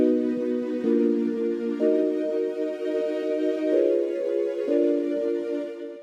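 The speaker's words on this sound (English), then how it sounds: "now we achieved the slightly muffled sound" A muffled, dark synth pad steps through sustained chords, its upper tones rolled off by a low-pass filter, playing steadily with no voices.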